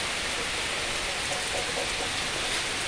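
Heavy rain pours onto the roof of an old abandoned house in Ceará, Brazil, a dense, steady, loud hiss of drops that fills the whole stretch without pause or voices.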